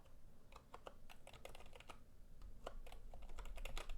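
Typing on a Red Dragon budget membrane keyboard with RGB lighting, a brisk irregular run of soft key presses, fairly close and faint, with no talking.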